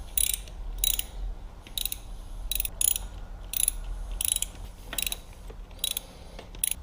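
A ratcheting wrench loosens 8mm bolts on a 2007 Suzuki GSX-R1000 motorcycle, with short bursts of rapid clicks repeating every second or so. Close and clear, with no talking.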